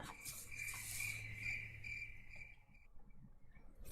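Cricket chirping played as a sound effect on a quiz show, a faint steady trilling that runs for most of the moment before fading out, with no voices.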